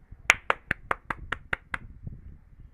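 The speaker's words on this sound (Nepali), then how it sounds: "clap clap clap Tali" Eight sharp hand claps ring out in a quick, even rhythm during a PUBG gaming session, followed by a fainter stray clap and near silence.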